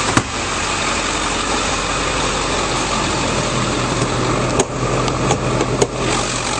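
A 2003 Ford F-350 Super Duty crew cab dually with the 7.3L diesel V8 idles steadily and close by, a continuous low, even rumble with a few brief clicks and knocks over it, and no one speaking.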